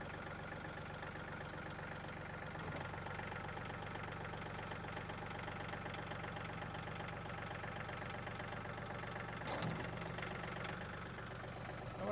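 A machine with a hydraulic bucket idles steadily and evenly for the whole stretch, a constant mid-to-low engine drone with a brief louder rise near the end; nobody talks over it.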